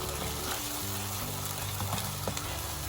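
Blended onion paste fries in oil in a pan with a close, constant sizzle and light crackling, broken by a few faint stirring touches.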